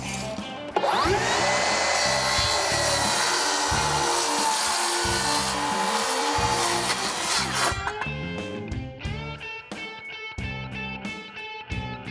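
Wood being cut into pieces for a planter box with a power saw, a loud steady whine and rasp close by that drops into a rougher, choppier cutting sound near the end, no voices.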